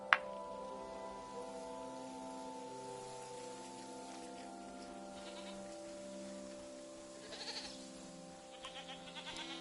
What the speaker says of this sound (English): I'm petting this goat for you.